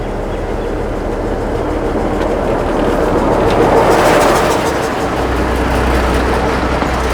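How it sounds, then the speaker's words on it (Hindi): A century-old narrow-gauge toy train on the Bilimora to Waghai line moves off, a loud, steady rumble and rolling roar close by that swells slightly midway, with no voice heard. "गेट बंद होगी, ट्रेन आगे बढ़ेगी"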